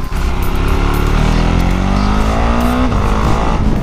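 A Husqvarna Svartpilen 701 roadster with a supermoto engine revs loud and close, its pitch sweeping steadily upward before a quickshifter gear change cuts it and it pulls on again, continuous engine roar throughout.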